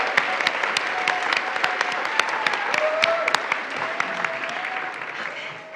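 A church congregation applauding and cheering together after a call to celebrate auction volunteers, sustained clapping from many hands with scattered voices mixed in, steady and fairly close before fading slightly at the end.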